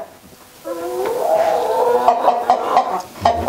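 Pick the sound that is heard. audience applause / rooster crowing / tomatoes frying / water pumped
rooster crowing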